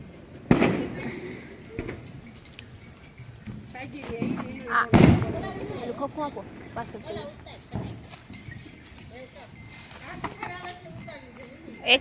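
Firecrackers burst during Diwali celebrations, with sharp loud bangs near the start and middle and smaller pops scattered among them, while people talk throughout.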